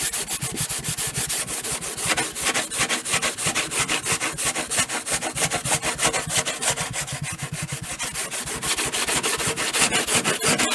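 Steady, close rasping strokes of sandpaper worked back and forth along a Padauk wood guitar neck, a continuous loud scratchy rhythm with no voices.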